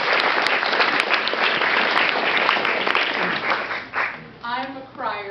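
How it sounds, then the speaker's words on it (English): Wedding guests give a warm round of applause during a toast, with loud, continuous clapping close by that tapers off as a voice begins speaking over the last moments. "Please give her a nice round of applause."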